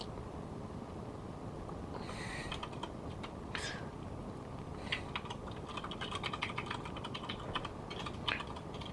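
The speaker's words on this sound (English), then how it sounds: "Sorry, just typing in chat." Quick, irregular clacking of computer keyboard keys as someone types into a game chat, soft and close against a steady background hiss, with short bursts and pauses over several seconds.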